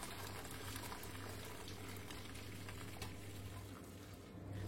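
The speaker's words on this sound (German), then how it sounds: "Nehmt dazu ein feines Haarsieb und gießt die Brühe ab." Vegetable broth is poured through a fine hair sieve, giving a steady liquid splashing and trickling that runs continuously, close and moderately quiet.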